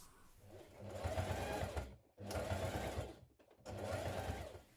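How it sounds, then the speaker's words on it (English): Sewing machine topstitching down a seam on a hooded jacket, running in three steady bursts of fast, even stitching with short pauses between them, close and clear with no talking. "And now we're going to stitch it down."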